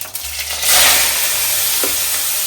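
Onions drop into hot refined oil in a wok and set off a loud, close, continuous sizzle that swells quickly and holds steady, with a faint stirring touch partway through.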